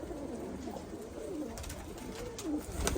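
Pigeons coo repeatedly in soft, throaty rolling calls, several birds overlapping at close range against a steady background hum.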